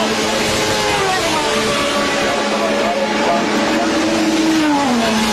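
A Formula 1 car at the 1981 German Grand Prix roars past with a loud, rising then falling engine whine over constant crowd and track noise.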